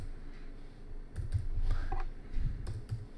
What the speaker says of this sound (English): I'm just going to type in the word sprite.